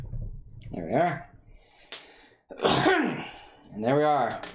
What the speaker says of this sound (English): With a loud ass cough.